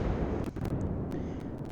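World of Warships torpedo hits erupt as a deep, continuous rumbling explosion with several sharp popping bursts on top, loud and close, with no talking.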